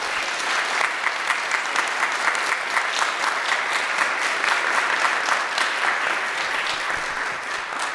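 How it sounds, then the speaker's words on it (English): Audience at a joint fire department community forum for Long Lake and Orono applauding firefighters, a loud, continuous round of dense clapping lasting the whole stretch without speech. "they deserve a nice round of applause"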